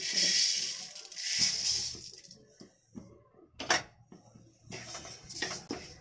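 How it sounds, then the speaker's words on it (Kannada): A handful of rice pours into a hot pan for dry-roasting while coriander powder is being made at home. Scattered crackles and clinks sound close by, with quieter stretches in between and a sharper burst near the end. "ಈಗ ಅಕ್ಕಿ ಹಾಕೋತಾ ಇದ್ದೀನಿ ಒಂದು ಹಿಡಿ"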